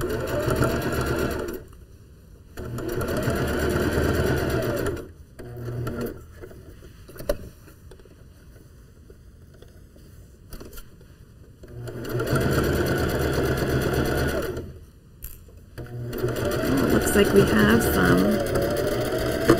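A sewing machine stitches a wool mitten seam in bursts of steady rapid whirring, stopping and restarting several times, with someone talking during and between the runs.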